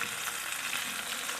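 Raw shrimp hitting hot oil in a pan for ginataang labong give a steady, close, dense sizzle that holds evenly throughout, with no voices.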